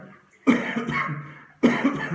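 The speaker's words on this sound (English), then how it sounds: "I still got a bit of a cough." Two coughing bursts, the first harsh and drawn out with a few rough pulses, the second starting at the end, close and fairly quiet, no talking.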